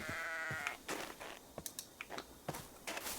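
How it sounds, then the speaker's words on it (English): Sheep in a survival video game let out a few short bleats at mid distance, mixed with quick clicking taps, with no speech over them. "Sheep."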